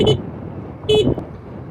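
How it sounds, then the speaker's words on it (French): Two short honks from a Doohan iTank 45 scooter horn, about a second apart, over a low background rumble. "j'ai aussi 2 klaxons, un à gauche, un à droite"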